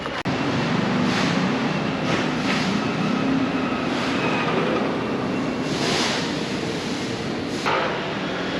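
Metro train ride in Kaohsiung, Taiwan: a steady, loud rumble of the carriage on the rails fills the whole stretch, with brief hisses and a sharp clank near the start, and no talking.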